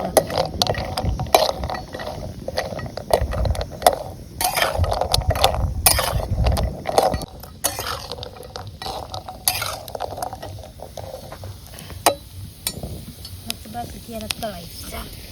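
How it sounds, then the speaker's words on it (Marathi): Turmeric roots frying in oil in a pan on a rural wood-fired stove, with steady stirring, scraping and metal clatter over a soft sizzle, close by and fairly loud; voices are heard intermittently. "हळकुंडाला चांगलं तळायला."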